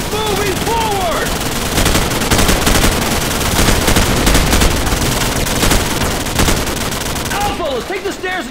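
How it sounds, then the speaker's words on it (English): Sustained automatic gunfire in Call of Duty 4: Modern Warfare, a loud, dense stream of rapid rifle bursts from several weapons, with soldiers shouting over the firefight at the start and end. "Take suppression fire on that building."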